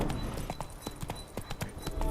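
Horse hooves pounding at a gallop in the video game The Witcher 3, a rapid, irregular clatter of close, sharp hoofbeats running continuously.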